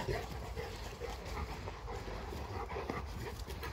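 Several dogs panting quickly and steadily close by, with faint whimpers and scuffling, fairly quiet and with no talking.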